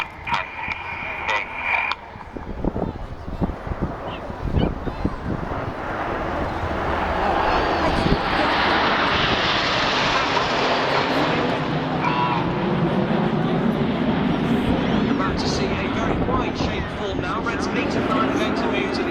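Red Arrows display jets flying in formation build into a broad, rising roar that swells and holds, with a commentator talking loudly over the start of the pass.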